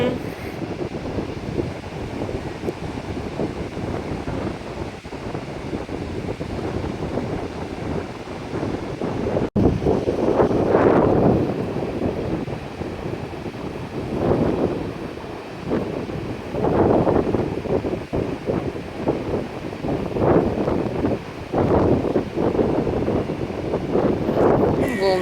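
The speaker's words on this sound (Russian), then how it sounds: "Волны какие гонят." Waves roll onto a Mediterranean shore at sunset under gusting wind and microphone buffeting, with swells rising and falling in repeated surges. People talk quietly nearby.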